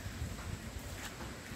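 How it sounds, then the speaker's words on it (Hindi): Soft, steady patter of light rain in misty weather at Mount Abu, with a low rumbling wash underneath, continuous and fairly quiet throughout. "हल्की हल्की बारिश हुई हो रही है"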